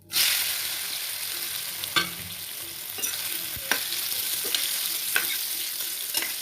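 Peeled amla gooseberries go into a hot pan with asafoetida over a low flame, giving a steady close sizzle broken by occasional scraping stirs, with no talking.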